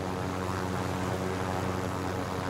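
A helicopter in Call of Duty Warzone drones close and loud with a steady, dense rotor and engine roar that holds without a break, and nobody speaks over it.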